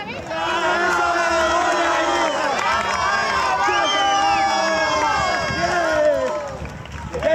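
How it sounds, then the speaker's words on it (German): Crowd of spectators loudly cheering and shouting encouragement along a marathon route as a father runs pushing his disabled son, a steady dense roar of voices with whoops, close and continuous throughout. "Die Zuschauer feuern Vater und Sohn auf ihrem Weg begeistert an."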